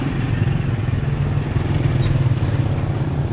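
A motorbike loaded with fruit passes by on a street in Sapa, Vietnam, its steady mid-pitched engine drone loud and close for the whole stretch, with no talk over it.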